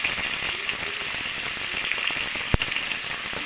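Onions softening with a pinch of salt in a pan for a mutton curry give a steady, even sizzle close up, with one brief sharp crackle near the end.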